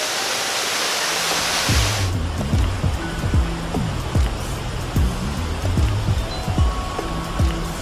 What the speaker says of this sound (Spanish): hemos llegado a las cataratas, a un lugar donde uno escucha el sonido del agua